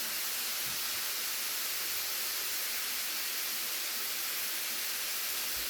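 Beef and onion stir fry in a hot pan, a steady, even hiss and sizzle that holds unchanged throughout with no voice over it.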